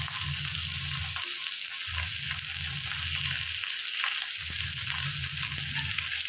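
Curry leaves sizzle in hot oil for a fish curry: a bright, constant frying hiss with low bursts of stirring that come and go, close by and free of speech.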